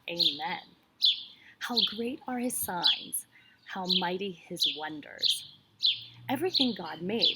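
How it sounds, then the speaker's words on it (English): Birds chirp outdoors in short, repeated high calls running steadily beneath a person speaking continuously in the foreground. "And I like how you can hear the birds chirping."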